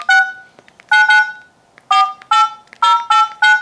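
Keypad dialing tones from an HMD Barbie flip phone: a series of short, clear electronic beeps pressed in an uneven rhythm, singly and in quick pairs, with quiet gaps between them and no voices.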